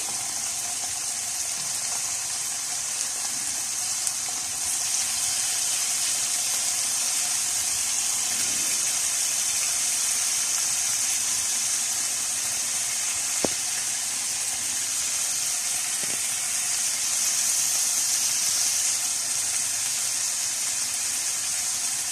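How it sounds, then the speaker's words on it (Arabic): Meat sizzles in a very hot pan on high heat on a gas stove, giving a steady, loud hiss that runs unbroken for over twenty seconds, broken once by a brief sharp pop. "الصوت ده معناه إن الطاسة بتاعتي سخنت كويس قوي أهي"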